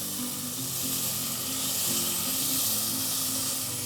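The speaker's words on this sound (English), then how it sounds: "Now after we add the salt, give it a mix" Tomatoes with salt fry and get stirred in a pan over a medium flame, a steady close sizzle with soft scraping and stirring throughout, no voices.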